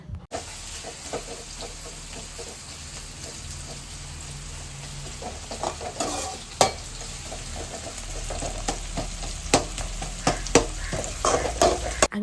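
Onions frying in oil for a chicken biryani, stirred steadily with a utensil; continuous sizzling with frequent scraping clicks and clatter against the pan, close and fairly loud throughout, no voices.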